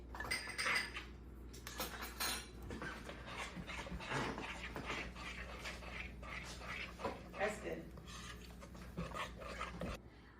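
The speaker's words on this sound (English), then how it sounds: "my mom is stirring it up a little bit" Spoon scraping and clinking against a bowl while stirring melted white chocolate, continuous clatter and rubbing up close, with occasional voices in the background.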